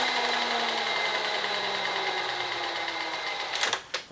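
Benchmaster milling machine spinning a Woodruff key cutter at a fairly fast speed, a steady close whine with motor hum and a falling pitch, ending in a few sharp clicks and knocks.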